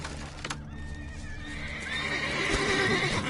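A horse in the video game The Witcher 3 neighs with a clear whinny, followed by galloping hoofbeats that build in loudness over a rumbling game background.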